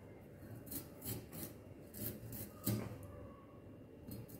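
Vegetable ends being cut on an aruvamanai, a traditional Tamil floor-mounted blade: soft, repeated raspy scraping strokes in a steady rhythm, close and fairly quiet, with one slightly firmer stroke near the end.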